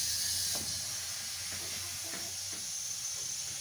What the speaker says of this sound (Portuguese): Enchendo o pneu.